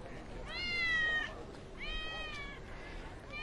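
A kitten stuck up a tree meows twice, two drawn-out plaintive cries separated by a short gap, clear and fairly close over a quiet outdoor background.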